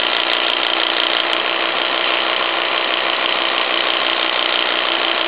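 Small live steam engine with a vertical fire-tube boiler, built as the steam plant for a Diana launch, running with a steady, dense mechanical clatter and fast rhythmic ticking, close up and loud, with no voices.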